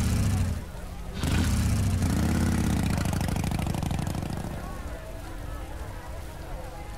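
A motorcycle engine idles in the video game Heavy Rain, a steady close mechanical rumble that continues throughout, with someone speaking over it at the start.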